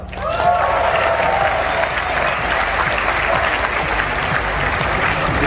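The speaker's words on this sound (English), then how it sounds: "Give it up for Vous" A live audience at a vegan campout event bursts into loud, sustained applause with some cheering, filling the room steadily for several seconds.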